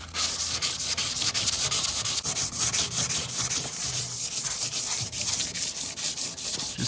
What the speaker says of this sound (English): And I started wet sanding it to reveal it.